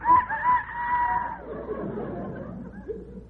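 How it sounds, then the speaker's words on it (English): Rooster crowing as a radio show sound effect, one drawn-out crow up front followed by a murmur of voices and clucking-like chatter in the background. "No, that's the rooster."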